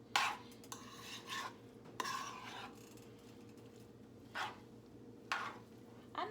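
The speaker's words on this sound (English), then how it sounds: "I'm mixing everything together" Spaghetti ingredients for a garlic parmesan chicken and shrimp Rotel dish are being stirred and mixed in a pot. The scraping and rubbing strokes are faint and irregular, set against a steady low background hum.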